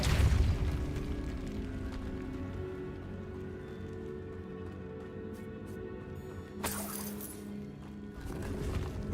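Depulso force spell in the video game Hogwarts Legacy: a low boom at the start fades into a soft hum, and a bright crackling burst comes later before the rumble swells again.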